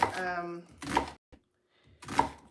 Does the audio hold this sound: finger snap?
no